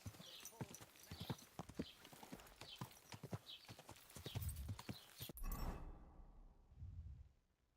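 Horse hooves clip-clop in a steady, brisk rhythm in the medieval video game Kingdom Come: Deliverance II, fairly close, with a neigh near the end before the sound cuts off abruptly.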